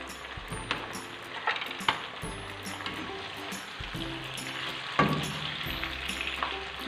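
Chopped tomatoes and ginger sizzle and crackle steadily in a hot pan for a potato curry, with occasional stirring scrapes and soft clinks over a constant frying hiss.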